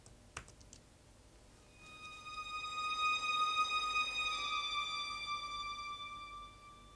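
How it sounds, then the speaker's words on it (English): A thin, very high violin line from the opening of the Taboo theme fades in after a few faint clicks, holding soft sustained tones that swell and then recede, quiet and alone. "there's this high violins that sound like this"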